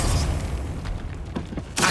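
The Bombarda blasting spell going off inside a catacomb tomb in the video game Hogwarts Legacy: a rumbling boom that fades, then a bright burst near the end, with no talk.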